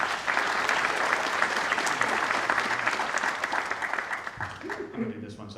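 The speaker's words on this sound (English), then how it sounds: "let's give a big round of applause for Owen" Sustained audience applause at a live tech conference fills the room, steady and dense, then thins out near the end as a voice begins to speak over the fading clapping.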